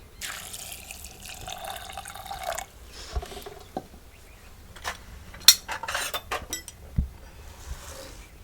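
Water is poured into a cooking pot, with a steady splash for a couple of seconds followed by scattered drips and metallic clinks of utensils against the pot, close and moderately loud with no talk.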